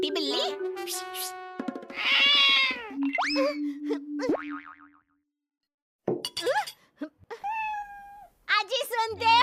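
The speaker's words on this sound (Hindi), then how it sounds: "अरे भाग कलूटी बिल्ली" Cartoon-style cat meows in an animated Hindi moral story, several short mewing calls mixed with a comic boing effect and a voice shooing the animal away amid other speech.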